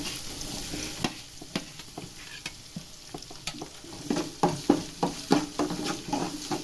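Onions frying with green chillies in a pan, a soft constant sizzle under repeated scraping strokes of a spoon that grow quicker and louder toward the end, close by.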